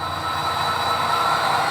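A model railroad train rolls along layout track out of a yard toward staging, giving a steady, loud, even rumble with a faint high whine and no talk.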